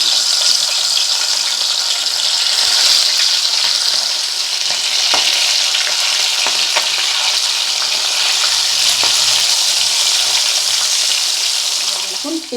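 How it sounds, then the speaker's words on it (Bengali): Pieces of katla fish fry in hot oil, a loud, dense and continuous crackling sizzle that stays steady and close throughout. "এবার মাছের পিসগুলো আমি এক একটা করে তেলের মধ্যে দিয়ে দেব।"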